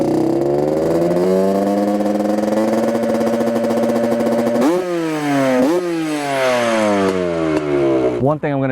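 Yamaha Banshee two-stroke motorcycle with a 64.5 bore and stock head revs loudly up close, a raspy buzzing engine that holds steady then blips repeatedly, pitch sweeping up and falling with each throttle stab.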